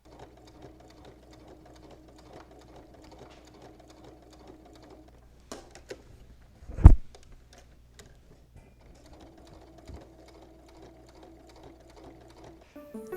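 Sewing machine stitching a continuous seam on quilted tote bag binding, a faint steady mechanical hum in two runs separated by a pause with a sharp handling knock.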